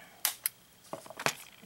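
A plastic tie on a Kyosho Mini-Z Camaro ZL1 RC car package being cut: a few quick, sharp snips and clicks at close range, with two crisp cuts followed by a brief cluster of smaller clicks.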